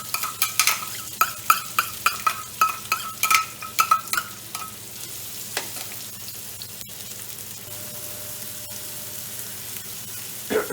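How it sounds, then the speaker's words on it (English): A sliced medium onion sizzles in a hot frying pan, with clattering stirring strokes at first, then a steady crackling fry on its own. "the onion's sizzling away beautifully"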